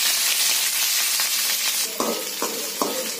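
Small onions, curry leaves and dried red chillies fry in hot oil, giving a bright continuous sizzle, with a few sharp stirring scrapes against the pan near the end.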